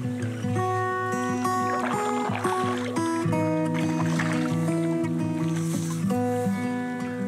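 A boat is paddled across water in Nordic wilderness, with steady close sounds carried under a continuous tonal background.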